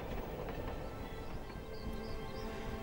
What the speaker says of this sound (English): Van Gogh's train ride to Provence began a new chapter in his life's work